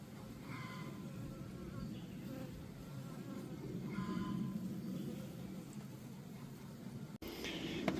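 Honey bees drone in a steady, moderately quiet buzz inside a hive box, a continuous swarm hum with no talk over it.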